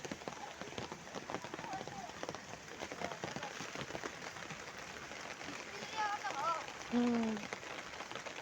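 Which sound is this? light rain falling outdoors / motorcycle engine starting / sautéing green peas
light rain falling outdoors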